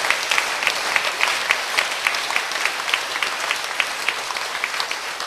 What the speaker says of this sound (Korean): 자, 주님께 박수로 영광 돌립니다